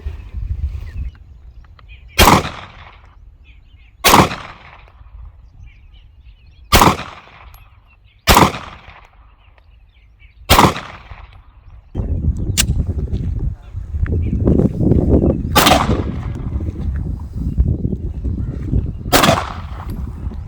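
Shots from a Canik TP9 9mm pistol crack out one at a time, about eight sharp reports spaced a couple of seconds apart, with a rising background rumble of wind or crowd noise in the later half.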